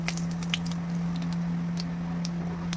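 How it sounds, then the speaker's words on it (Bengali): Nigella seeds (kalo jeera) tempering in hot oil, crackling with quick irregular pops and spits over a low steady hum, close and fairly loud, no voices. "দিয়ে দিলাম কালো জিরে ফোড়ন।"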